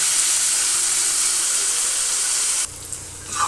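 Chopped tomatoes cooking in a hot tempering for wheat rava upma give a loud, even sizzling hiss that cuts off sharply near the end.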